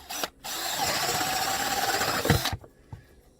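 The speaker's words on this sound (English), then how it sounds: "using your portable drill with a 2-inch hole saw, I'm going to drill a hole right through here" A portable drill fitted with a 2-inch hole saw cuts through a PVC sump basin, giving one steady, loud whining grind of about two seconds that starts abruptly and stops sharply, with a few faint knocks after.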